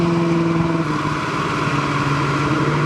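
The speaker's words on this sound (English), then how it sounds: "Get on it again, let you hear the motor." A restored 1968 Chevrolet C10 short-bed pickup's engine runs loud and close in a steady, rumbling drone with a low hum that holds throughout, without clear rises in pitch.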